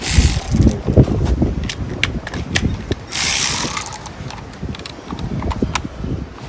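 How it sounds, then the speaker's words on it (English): A ratchet wrench turning bolts on a Dodge 360 engine, sharp rapid clicking bursts up close in a garage, with pauses and clanks between the strokes. "Let me get this ratchet."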